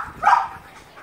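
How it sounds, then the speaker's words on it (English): A young dog at an animal shelter gives a single short, fairly close bark that rises and fades within a second, with no talk over it. "Both really sweet, very sweet dogs."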